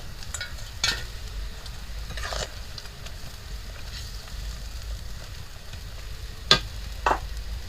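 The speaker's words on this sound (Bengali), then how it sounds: "জলটা ফুটে গেছে এখন আমি মাছগুলো দিয়ে দিচ্ছি" Fish dropped into boiling water in a pan while cooking leta fish, a low bubbling simmer with a few sharp splash and utensil knocks, fairly quiet and close.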